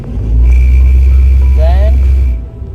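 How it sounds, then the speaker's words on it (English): A car engine idles in a deep, steady rumble while the gas is pressed with the brake held for a burnout, loud and close, with a short rising whine partway through before the sound fades out. "you press on the gas, as you're holding onto the brake."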